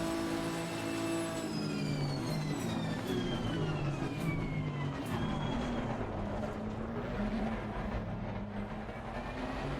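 Race car engine in the Assetto Corsa Competizione game, revving steadily with shifting pitch as gears change, loud and continuous throughout.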